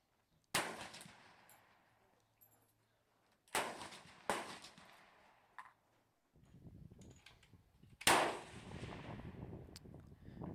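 Sharp rifle reports from a 6BR at a benchrest groundhog shoot, four or five loud cracks spaced a second or more apart, each trailing off into a short echo, with quiet stretches between.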